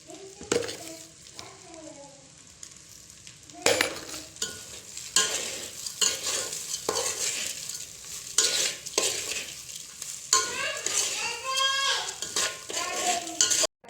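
Rice for mutton biryani is sautéed in a pan, with a quiet sizzle and repeated scraping and clinking of a metal spoon stirring against the pan in irregular bursts, close and without talk.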